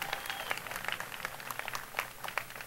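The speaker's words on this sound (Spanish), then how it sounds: "Aplauso para Consuelo." Quiet applause from the audience at a singing festival semifinal, a continuous patter of scattered hand claps heard from a distance, with a faint voice underneath.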